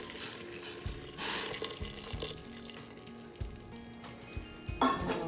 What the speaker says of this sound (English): I have made the hot water ready, and now I am going to put little into the gravy.